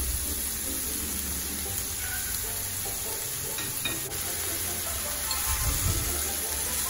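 Minced meat frying with onion and garlic in a pan for chili con carne, a steady, dense sizzle running throughout with faint stirring scrapes, close and continuous.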